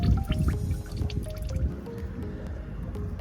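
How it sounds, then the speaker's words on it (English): Motor oil from a Jeep Liberty drips and splashes into a drain pan during an oil change, producing a close, continuous wet trickling with soft irregular plops. "you'll see some of the oil come down right there into our pan, just like that"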